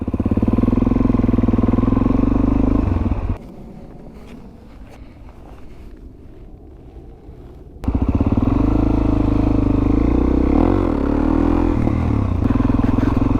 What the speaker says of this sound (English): So let's go ahead and hop on the DRZ